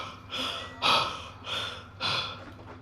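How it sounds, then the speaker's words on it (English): A man hunched over and panting hard after chasing someone, four heavy, rasping breaths spaced about half a second apart, close and alone with no talk. "Desmond hunched over, panting."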